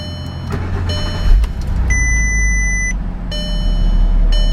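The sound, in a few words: 2008 Audi TT 3.2 Quattro engine running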